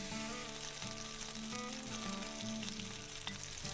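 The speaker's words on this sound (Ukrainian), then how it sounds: "У розігріту пательню наливаємо соняшникову олію і обсмажуємо нашу грудинку з обох боків помішуючи до золотистої скоринки." Pork brisket fries in sunflower oil in a hot pan, giving a steady, dense sizzle and crackle that carries evenly throughout with faint stirring underneath and no voices.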